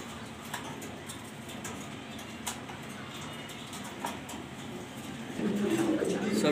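A male grizzle racer pigeon coos softly at close range with low throaty murmurs, swelling louder toward the end, amid a faint roomy background hum.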